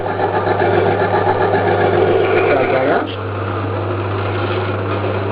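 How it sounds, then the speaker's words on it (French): A small electric motor runs steadily on a test bench with an ammeter, giving a continuous hum with a strong low tone and mechanical whir. Partway through the whir shifts and drops slightly in level, then carries on evenly. "mon moteur continue de tourner"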